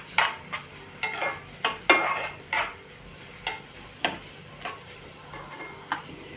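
Green chili pieces and onion frying in a hot oil tempering for paneer bhurji, heard as a run of sharp stirring clicks and scrapes at a steady rhythm over a faint sizzle, close by with no voices.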